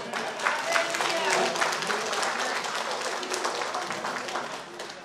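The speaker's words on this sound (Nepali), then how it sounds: "ताली दिनु न" Audience applause fills a Christian gathering in Morang, Nepal, in 2025: a dense, steady wash of many hands clapping for about five seconds, fairly loud and sustained before easing slightly at the end.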